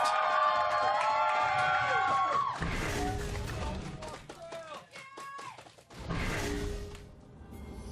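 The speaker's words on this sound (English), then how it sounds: "Got a nice crowd here in the Battle Theater." A crowd in the Battle Theater at a League of Legends regional qualifier match cheering and shouting in bursts, mixed with loud game sound effects and an announcer speaking over it.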